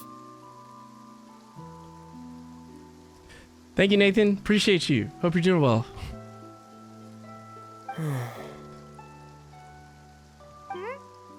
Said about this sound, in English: It often rains on days where there are trials being held in the Opera House